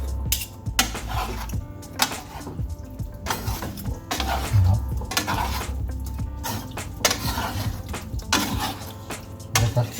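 Two kefta meatball preparations are stirred together in a dish, with continuous wet mashing and scraping plus occasional utensil clinks against the bowl, close and steady, with no speech.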